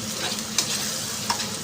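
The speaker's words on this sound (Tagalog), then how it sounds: "Haluin natin at medyo masusunog na to." Spaghetti sauce is stirred in a pan on a double burner with a soft sizzle underneath, and two short utensil scrapes stand out in this brief moment.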